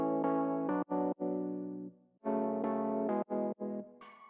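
Rhodes electric piano plays sustained chords and short stabs with effects, a smooth warm tone broken by brief gaps and ending on higher notes, fairly quiet and without voices.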